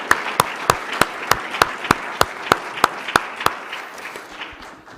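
Audience applause for panelists at a talk on the Christian Right, with sharp, evenly spaced loud claps standing out in a steady rhythm over softer clapping that fades away near the end.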